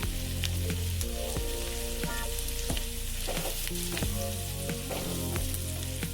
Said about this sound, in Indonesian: Kita tumis sampai bawang bombaynya harum dan juga sedikit layu